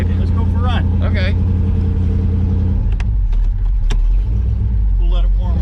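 A 1970 barn-find Chevy gasser race car idles loudly and warms up with a deep, rumbling engine note and brief throttle rises, heard up close under people talking.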